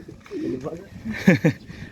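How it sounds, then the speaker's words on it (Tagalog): Racing pigeons coo in their loft, a couple of soft, low throaty coos close by, with a voice talking briefly around them. "Ang mga ibon nyo."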